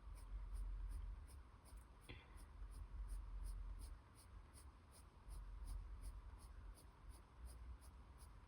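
Colored pencils scratch across paper in a flower coloring book, a faint, close, continuous scribbling texture in repeated strokes, with no talk over it.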